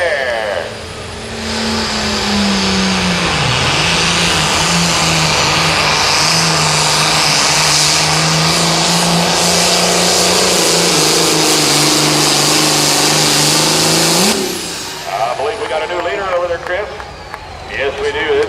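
A loud, close 8500 limited pro stock pulling tractor roars at a tractor pull in Mound City, Missouri, its engine holding a heavy, steady bellow for about thirteen seconds before cutting off abruptly, followed by a lower rumble and crowd noise.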